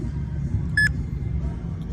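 A store barcode price scanner in a Walmart gives one short, clear electronic beep while scanning Reebok socks, over a low hum of shop background noise.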